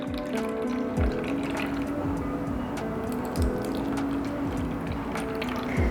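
Ginger, coriander and water pour steadily into an ice cube tray, a continuous trickling splash with faint periodic dribbles and a low background hum.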